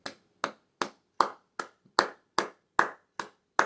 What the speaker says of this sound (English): let me give a round of applause,